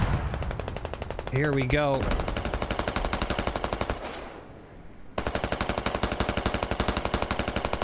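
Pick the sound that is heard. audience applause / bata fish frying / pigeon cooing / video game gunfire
video game gunfire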